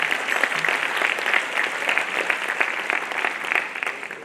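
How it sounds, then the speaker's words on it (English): Steady applause from a crowd at a school matric awards ceremony, dense clapping that carries on without a break at an even level. "give them a nice round of applause for their commitment to their work"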